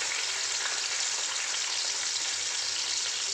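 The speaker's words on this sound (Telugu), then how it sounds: "ఆయిల్ వేడైన తర్వాత ఆనియన్స్ వేసుకుందామండి" Onions dropped into hot oil in a pan give a dense, steady, close sizzle that holds evenly for a few seconds. No voices are heard.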